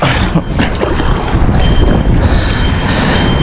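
Strong wind blowing across open sea while fishing in shallow water for milkfish, a loud, steady roar buffeting the microphone with broadband rumble and hiss throughout, near and unbroken.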